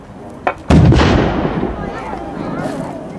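A cannon fires at a reenactment marking the 250th anniversary of Fort Ligonier. A small sharp pop comes first, then one loud booming blast that rolls away and echoes for over two seconds.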